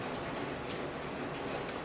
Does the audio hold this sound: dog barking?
no